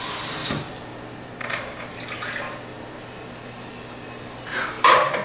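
Water running and pouring in a kitchen while making a fruit crisp, a steady hissing flow with brief louder splashes at the start and near the end, no talking.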